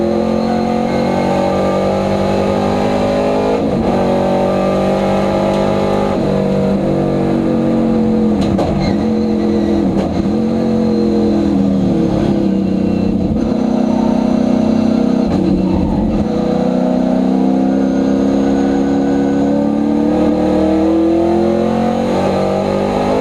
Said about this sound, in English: the rest of the field comes through. There's the Capri, there's another Mustang